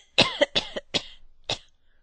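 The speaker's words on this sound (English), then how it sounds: "How long have you had that cough?" A burst of harsh coughs performed by an audiobook narrator, close and loud: three quick hacks in a row, then a final cough after a short pause.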